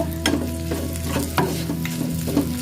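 Ingredients stir-fried in oil in a pan for grilled gourami, giving a steady sizzle broken by repeated scraping strokes of a spatula, close up with no talking.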